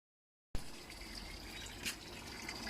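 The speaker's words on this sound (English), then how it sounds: "the pond's been running all night on a trickle" Water trickling steadily into a newly lined garden pond, a soft continuous wash of running water with a faint splash partway through, heard alone after a brief silence at the start.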